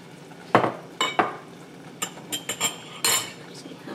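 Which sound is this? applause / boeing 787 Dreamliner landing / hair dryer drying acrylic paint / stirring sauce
stirring sauce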